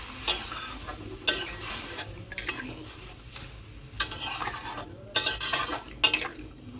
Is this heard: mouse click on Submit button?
no